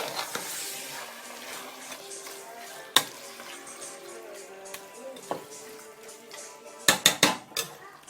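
A spoon stirring and scraping dum biryani in a metal pot, with soft sizzling underneath and a few sharp clinks of the utensil against the rim, the sharpest ones clustered near the end.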